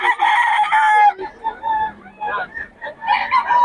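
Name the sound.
rooster crowing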